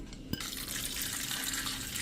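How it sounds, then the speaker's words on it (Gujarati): Lentils (dal) being washed with water in a container, a steady running and sloshing water sound with one sharp knock near the start, moderately quiet and without speech. "તો પાણી નાખીને અને એને જો આવી રીતે ડોરું પાણી નીકળે ને ત્યાં સુધી આપણે ધોઈ નાખશું"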